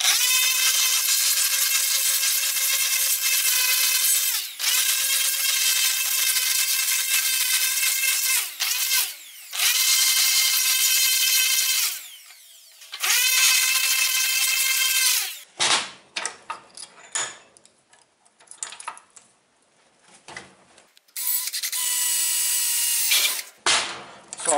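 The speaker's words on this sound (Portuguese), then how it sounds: "Eu vou lixar agora pra tirar essa marca" A power sander working over wood to clear pencil marks on a workshop-built key holder, running loud and close in several long bursts with short pauses, then giving way to scratchy, rattling handling noises.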